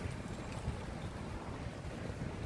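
Strong wind blows by the sea, a loud, steady, close rush of buffeting gusts across the microphone with no voices.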